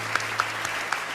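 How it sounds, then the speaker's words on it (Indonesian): Studio audience applause on an Indonesian television talent show, a steady wash of clapping from many hands with a few sharper claps popping out, heard alone for about a second. "Boleh kita berikan tepuk tangan untuk pejuang mimpi kita yang pertama, Bapak Yunus Heli."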